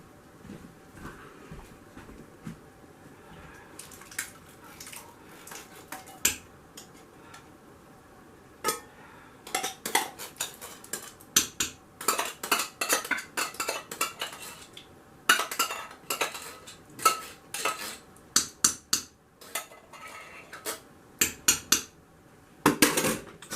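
A metal spoon scoops black beans into a pot of homemade vegetable soup, producing irregular clinks and scrapes against the pot that come in quick bursts, close and fairly loud, with no talk.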